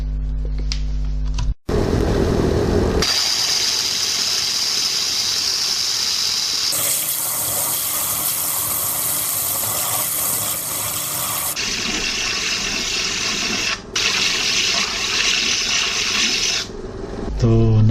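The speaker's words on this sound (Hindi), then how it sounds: "और अब हम ये जो स्टोन आप मेरे हाथ में देख रहे हैं ये काटेंगे" A lapis lazuli stone is cut on a water-cooled saw: a loud, steady grinding hiss with running water carries on for most of the stretch, broken by a couple of brief dips.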